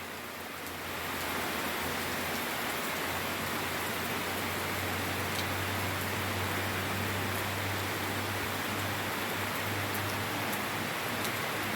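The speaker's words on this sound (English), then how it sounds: "This is the second day of this heavy rain." Heavy, steady rain soaking a garden, a dense even hiss of drops on the ground with a low hum underneath, continuous and unbroken for the whole stretch.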